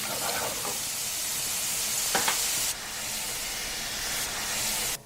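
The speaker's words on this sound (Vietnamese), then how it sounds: "Cho 2 muỗng canh dầu vào chảo. Cho vào 1 muỗng canh tỏi băm. Phi lên." Minced garlic fries in a few spoonfuls of oil in a pan, giving a steady close sizzle with a couple of brief stirring scrapes. There is no talk.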